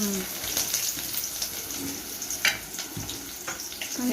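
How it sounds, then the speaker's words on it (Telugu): Onions frying in oil for a curry in a home kitchen, a steady close sizzle with occasional clinks of stirring utensils and faint household background noise. "కర్రీ ఆనియన్స్ వేసుకోండి"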